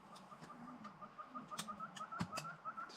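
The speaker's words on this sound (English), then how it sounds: "Having the hornbills going, all the other birds screaming and going and chirping and tweeting." Birds in the bush at Mapungubwe, South Africa, including hornbills: a steady, rhythmic series of repeated calls with sharp clicks and chirps, faint and somewhat distant.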